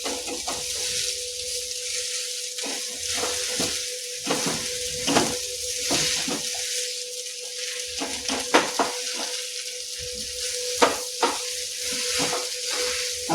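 Potato masala for bread pakoda fries in a pan with a steady sizzle, broken by repeated scraping and clattering strokes of a spoon against the metal as the mixture is stirred and turned.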